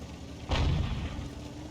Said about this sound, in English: There's the Arty rounds going in after the M44.